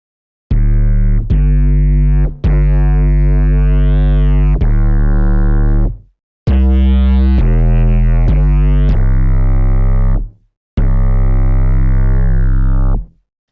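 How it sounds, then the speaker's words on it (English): Hyperpop-style bass kick synthesized in Vital through a standard low-pass filter with lowered resonance, played as a series of loud, distorted, sustained booming notes with short gaps, alone without talk. "this is a more spicy hyper pop kind of kick"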